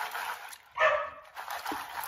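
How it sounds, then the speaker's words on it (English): A dog barks once indoors, a short sharp yelp standing out briefly from quieter room noise around it. "sorry about the dog."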